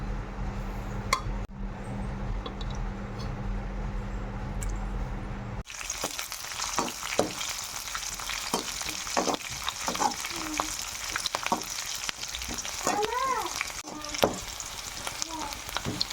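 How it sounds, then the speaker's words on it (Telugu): Oil sizzles steadily as a tempering of spices fries in a pan for a beetroot stir-fry, a continuous close crackle with occasional stirring clinks and scrapes, heard alone with no talking. "తాలింపు బాగా వేయించుకోవాలి"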